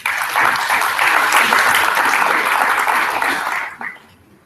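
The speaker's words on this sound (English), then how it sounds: "can we have a huge round of applause for Professor Prabhat Ranjan." Loud audience applause at a formal award ceremony, a dense sustained wash of clapping that fades out toward the end.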